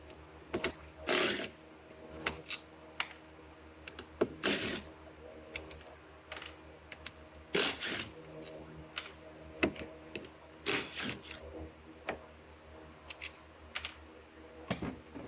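T25 bolts are undone from the window regulator motor of a 2002-or-later Mini Cooper, heard as a run of sharp close clicks and ratcheting taps at irregular intervals with quiet pauses between.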